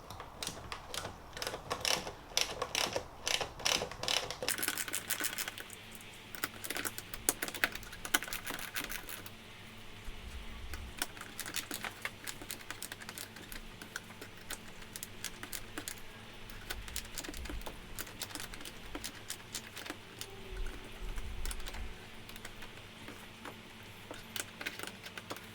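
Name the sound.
ratchet with 10 mm socket removing BMW E46 M3 trim bolts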